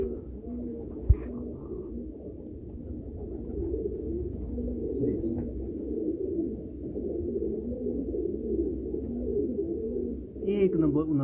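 Breeding pair of pigeons cooing in a loft, a low steady murmur of overlapping coos running throughout with a faint brief click near the start.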